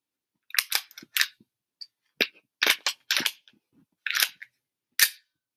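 A Glock 17 pistol is handled in a quiet room: a series of sharp, close mechanical clicks and clacks of plastic and metal, spaced irregularly with silence between them.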